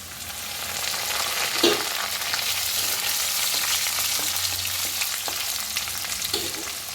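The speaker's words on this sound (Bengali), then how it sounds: "এটার সময় বেশি যায় হচ্ছে এই কোপ্তাগুলো ভাজতে, কারণ এগুলো ভাজতে প্রচুর সময় যায়" Koftas frying in a pan on low heat, making a continuous gentle sizzle with a few faint stirring clicks, close and steady with no voices.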